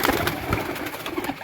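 A Sheikhan wala breed pigeon coos nearby in a short, soft, rolling call, heard close against faint background noise.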